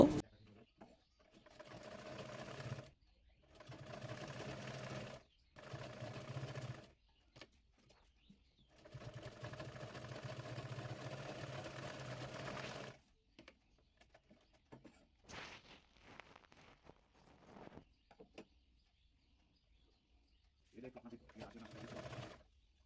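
A sewing machine stitches pleats on a baby girl's half pants in several bursts of steady rapid whirring, each a few seconds long, separated by pauses with quiet handling sounds.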